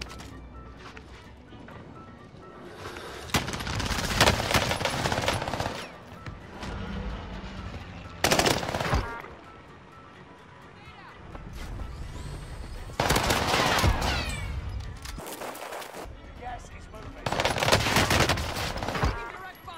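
XM4 automatic rifle fire in the video game Warzone comes in several loud sustained bursts, broken by single sharp reports and quieter gaps with faint background talk.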